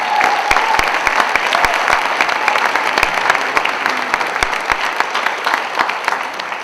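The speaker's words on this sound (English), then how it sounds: "I was waiting for the applause" Audience applause at a film festival awards acceptance speech, a dense sustained wash of clapping from a large crowd that holds steady for several seconds before easing slightly, with sharp individual claps standing out.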